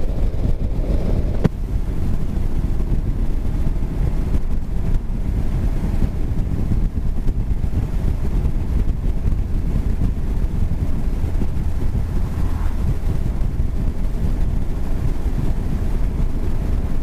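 A motorcycle ridden along a road through bends, heard as loud, constant low rumble and wind buffeting on the microphone, a steady roar that swamps any detail of the engine and carries on throughout without talk.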